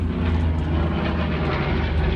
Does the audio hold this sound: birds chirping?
no